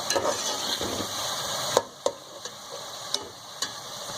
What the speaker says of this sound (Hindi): ये देखिए, हमारा मसाला अच्छी तरह से भुन चुका है।